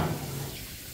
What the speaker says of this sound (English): You got dance with the noise of the water.